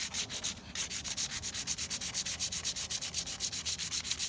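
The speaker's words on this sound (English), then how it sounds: "you just have to kind of fold it like this, and then you can work in these grooves" Folded cloth-back sandpaper rubs by hand in the grooves of a carved wooden walking stick, making a steady back-and-forth rasp of about four strokes per second, close and clear, with no voices.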